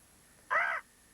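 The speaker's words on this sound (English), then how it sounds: "But that's a cockatoo, Dil." A single loud, harsh cockatoo screech, about a third of a second long, rising alone out of a quiet background with no talking.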